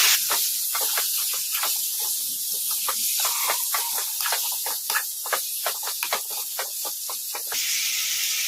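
Chicken frying on high flame in a pan, a loud continuous sizzle and hiss with rapid crackling pops and occasional scraping as the pieces are stirred, heard up close.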